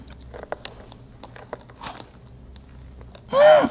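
Someone bites into a crunchy Hershey's Chips Ahoy cookie close to the mic, with scattered small crunches and chewing clicks followed by a louder burst at the end.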